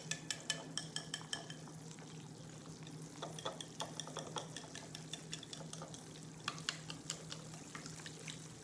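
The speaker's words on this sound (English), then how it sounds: "Meanwhile, I'll start beating the eggs." Eggs being beaten with a little salt in a bowl, a rapid series of light clicking whisk or fork strikes against the bowl, bursts of quick taps with brief pauses, close and fairly quiet over a low steady hum.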